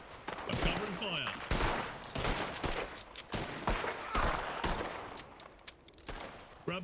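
Bursts of gunfire ring out in a Western roleplay video game, WildRP, a rapid fusillade of shots in quick succession with sharp cracks spread across the clip, mixed with some background noise.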